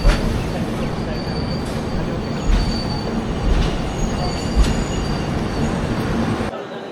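Gitanjali Express 12859, a passenger train from Mumbai, rolls past loudly with a continuous rumble, rhythmic wheel clatter and occasional high squeals, ending abruptly.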